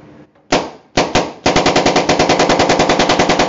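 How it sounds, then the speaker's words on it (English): Planet Eclipse Geo3 paintball marker dry firing, two single sharp shots followed by a rapid, evenly spaced burst of loud close pops. "And let's dry fire and see how it shoots."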